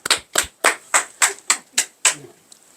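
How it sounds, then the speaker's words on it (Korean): A church congregation claps together in about eight sharp, evenly spaced bursts of clapping, fairly close and loud, with no talk over them. "박수 한번 칩시다. 박수."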